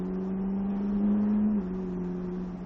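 A Ferrari F340 on a racing circuit gives a steady, close engine drone that holds for a moment, then drops slightly in pitch partway through.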